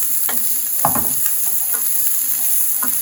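Green and red bell peppers, onions and avocado sizzle steadily in a pan, a continuous close hiss with a few soft stirring clatters.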